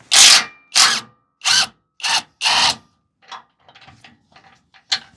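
An impact tool removes 18mm sway bar bolts on a stock Ford Bronco, giving five loud close bursts of rattling followed by quieter clinks and taps.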